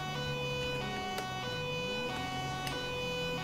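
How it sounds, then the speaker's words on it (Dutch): Police car sirens wail in the video game GTA 5, several steady tones overlapping with one pitch sliding up and down, loud and continuous throughout with no talk. "Sirenes door elkaar heen."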